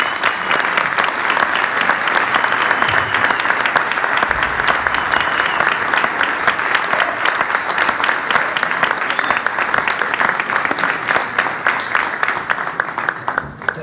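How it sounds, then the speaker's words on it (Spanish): Sustained applause from a crowd, steady and loud throughout, with dense clapping that barely fades toward the end. "por favor, un fuerte aplauso para él."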